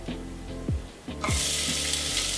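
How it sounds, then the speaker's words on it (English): Chopped onions drop into hot olive oil and begin to sizzle, with a few clunks and knocks from the pan before a steady, close frying hiss takes over. "We're gonna saute our onions here."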